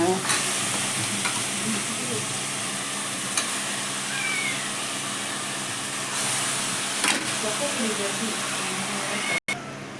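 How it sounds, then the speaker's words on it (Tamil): Chicken sizzles steadily in hot oil, a constant frying hiss with occasional stirring scrapes and one brief clunk near the end. "கறி நல்லா எண்ணெயில் வதங்கினதுக்கப்புறம்"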